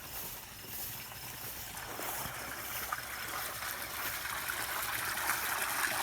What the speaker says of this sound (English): There's just something soothing about hearing this water fill up these tanks.